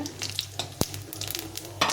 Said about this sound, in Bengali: এখন আমি এই একটা শুকনো লঙ্কা জিরে ফাটিয়ে রেখেছিলাম, এটা দিয়ে দিলাম।